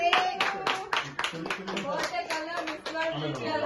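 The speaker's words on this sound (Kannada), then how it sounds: "ಚಪ್ಪಾಳೆ" A group claps during a 22nd birthday celebration, a run of quick sharp claps that continues under lively voices.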